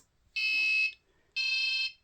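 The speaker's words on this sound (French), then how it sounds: "Vous voyez, ça fait bip bip." A buzzer driven by an Arduino gives two loud, steady, high-pitched electronic beeps, each about half a second long and a second apart, in an otherwise quiet room.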